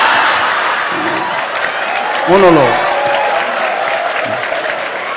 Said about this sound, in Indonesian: Ngono ya tepuk tangan.